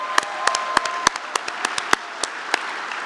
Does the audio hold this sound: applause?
yes